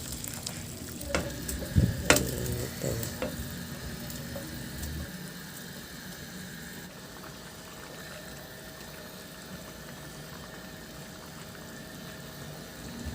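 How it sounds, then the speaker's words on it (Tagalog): Mung beans go into a pot sautéing with shrimp paste, giving a loud sizzle and stir with a few clatters at first, then a steady, quieter frying hiss throughout. "Ilagay ko na rin yung nilaga kong munggo."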